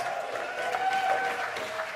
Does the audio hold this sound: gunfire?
no